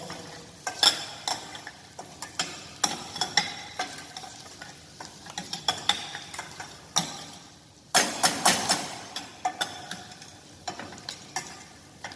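A ladle scrapes and clatters around a pot of simmering broad bean soup with vegetables in a kitchen, irregular clinks and scrapes in bursts over a soft sizzle, close and fairly quiet.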